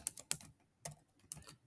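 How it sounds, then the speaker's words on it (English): Sharp, close keystrokes on a computer keyboard come in quick irregular bursts with short pauses as subjects are entered into a spreadsheet. "I'm just first going to type in the different subjects that I have."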